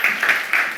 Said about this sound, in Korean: 우리 두 부부를 위해서 박수 해주시면 감사하겠습니다.